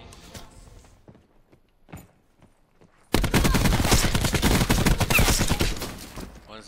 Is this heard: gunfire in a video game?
yes